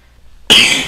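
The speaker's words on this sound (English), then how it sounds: "Sorry if I cough a lot" A single sharp, close cough bursts out after a moment of near silence and trails off briefly.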